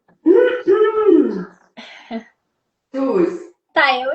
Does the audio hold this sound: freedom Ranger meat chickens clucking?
no